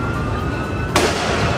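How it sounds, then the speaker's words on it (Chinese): A burning car's front end bursts with a sudden bang on a roadway, cutting sharply into steady background roar and noise, then leaving a louder wash of noise afterward. "突然砰的一声，车头传出爆炸声"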